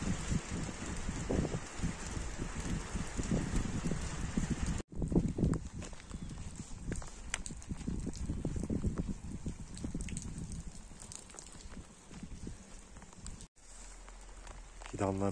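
Steady rain patters and hisses continuously over a village garden, with dense drops striking surfaces nearby and a brief dropout part way through.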